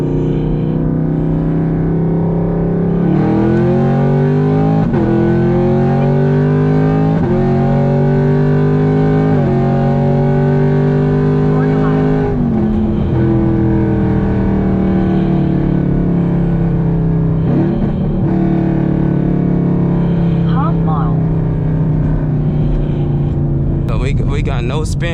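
A full-bolt-on Camaro SS accelerates hard from a second-gear roll, its loud engine note climbing repeatedly and dropping at each upshift, then settling into a long steady pull at speed.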